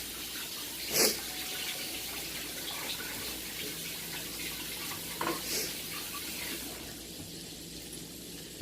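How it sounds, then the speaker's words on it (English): Hands are washed under a running tap in a kitchen where frog legs, alligator and duck are being cooked; a steady, fairly quiet stream of water runs throughout with a couple of brief splashes. "Once again, wash them hands."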